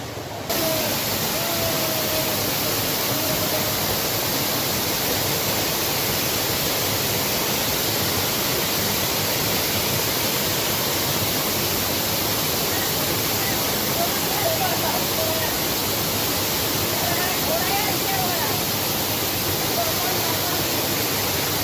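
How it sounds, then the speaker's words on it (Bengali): A waterfall in Purulia pours with a dense, continuous rushing hiss of water that stays loud and even throughout, while faint voices come through now and then. "ঝর্ণার আওয়াজ"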